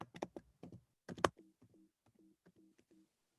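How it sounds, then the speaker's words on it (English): Typing on a computer keyboard, a few loud close key clatters at first, then softer, evenly spaced taps fading out toward quiet. "I am typing."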